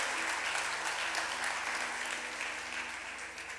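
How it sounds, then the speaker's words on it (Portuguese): A church congregation applauds loudly during a worship service, a dense, steady wash of clapping from many hands that holds for the whole moment with little variation. "Aplauda Jesus bem forte."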